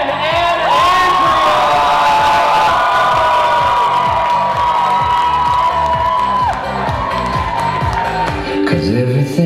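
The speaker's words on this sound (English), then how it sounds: "I want you to hoot and holler. I want you to scream and shout." Wedding guests at a reception cheer, whoop and shout loudly as a crowd, a sustained burst of excited voices over booming dance music.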